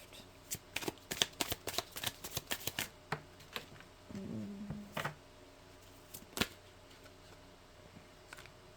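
Mystic Forest Oracle cards being shuffled by hand: a close run of quick, crisp riffling bursts and soft slaps, pausing briefly, then a few more scattered shuffles against a quiet room.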